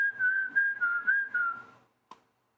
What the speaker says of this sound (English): He's whistling the hint.